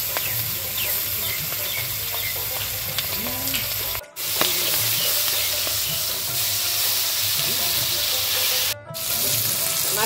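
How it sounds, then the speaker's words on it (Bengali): Fish fries in hot oil with a loud, constant close sizzle and crackle, interrupted by two brief drops in the sound. "তেলটা গরম হয়ে গেছে, এখন মাছটা দিয়ে দিব"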